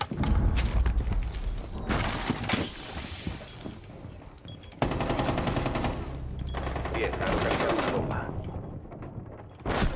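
Dense, loud bursts of machine-gun fire and shattering erupt repeatedly in a Rainbow Six Siege match, close and rapid with brief lulls, as a voice talks over the gunfire.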